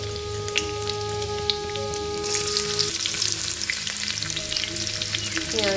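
Chopped garlic and onion frying in hot oil for restaurant-style egg chow mein, a loud, steady crackling sizzle with popping spatters and a few clinks of utensils throughout.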